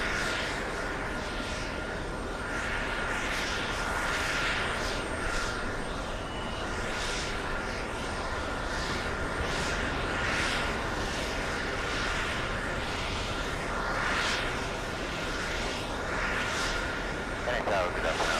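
A Swiss airliner arriving at an airport produces a steady, unbroken engine roar that holds at an even loudness throughout, with a faint whine riding above the broad rumble.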